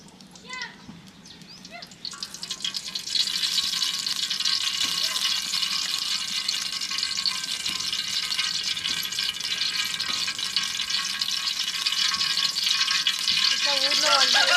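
Cooking oil in a pan starts sizzling loudly after a quiet moment and keeps frying steadily with bursts of stirring, close and continuous, while a voice talks briefly at the start.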